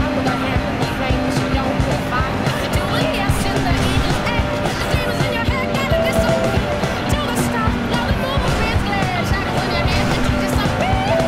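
Car drifting and power-sliding in the video game Driver: San Francisco, a steady engine roar with tire squeal running throughout under loud talk.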